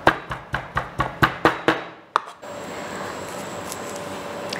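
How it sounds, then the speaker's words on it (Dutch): A knife chops bacon on a cutting board with about eight sharp, evenly spaced strikes in quick succession, close and crisp, then a steady low background hiss. "Beginnen we met spek te snijden."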